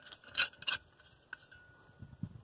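Small metal hardware clinks as a washer and then a nut are slipped onto a concrete anchor bolt for a cabin foundation: a few short, close, bright clicks and taps with quiet gaps between them.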